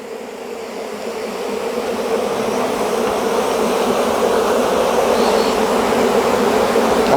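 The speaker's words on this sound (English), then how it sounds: "look at all those bees, wow" A dense, steady swarm of honeybees buzzing close by around a hive, the drone swelling slightly louder in the first seconds and then holding constant, with no voices.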